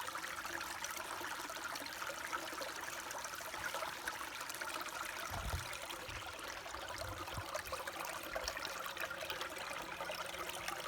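Water rushes steadily through an E-Z gold sluice set on bedrock, a continuous close wash of flowing, trickling water with no voices.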